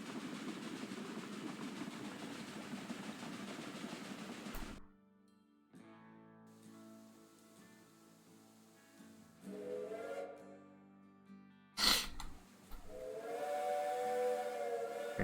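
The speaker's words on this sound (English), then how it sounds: "What are we waiting for? Waiting for this train." A steam whistle sounds as a train arrives in the railway video game Railway Empire 2: a sharp burst near the end, then a sustained tonal whistle over a soft rumbling, hissing background.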